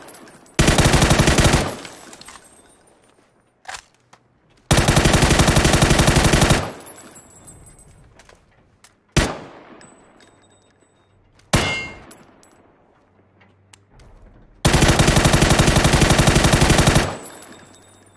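PUBG gunfire in long loud automatic bursts of rapid shots, with single sharp metallic clangs between them and quiet gaps, with no talk.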